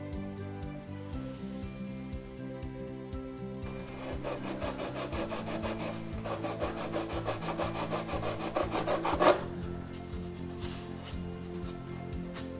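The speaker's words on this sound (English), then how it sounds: "going with the grain on balsa takes a long time to sand" Worn 36 grit sandpaper rubbing along the grain of balsa wood while building an RC airplane kit, a steady rhythmic rasping scrub of repeated close strokes that gets busier toward the end, with no talk.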